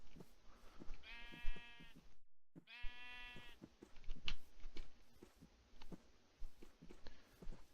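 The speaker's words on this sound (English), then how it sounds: "Come along, sheep." Sheep bleating in the video game TerraFirmaCraft, two clear drawn-out bleats close by, separated by a short gap, over soft footsteps and pattering.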